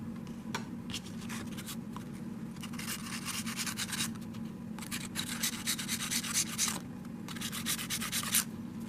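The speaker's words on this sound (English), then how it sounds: "we're going to lightly sand down the exterior of it so that we can make sure that we have like a very good bond here" Sandpaper rubs lightly over the exterior of a broken fly rod in short back-and-forth strokes, close and fairly loud, coming in bursts separated by brief pauses, with no voices.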